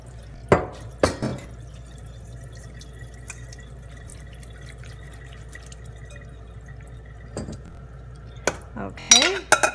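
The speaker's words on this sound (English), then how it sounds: "So I'm going to drain off the water." Water from soaked chilies is poured off, with a few clattering pot and dish knocks, brief splashes and drips in a quiet kitchen.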